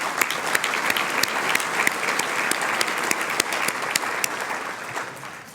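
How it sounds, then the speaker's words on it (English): An audience at a regional State of the Region event claps steadily, a thick, continuous wash of many hands, fairly loud and close, tapering slightly at the end. "we should clap for them"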